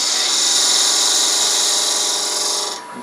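A wood lathe whirs with a steady bright scraping hiss as a skew chisel faces off a ridge on a spinning wooden piece for custom Grado headphones, continuous and close, cutting off near the end.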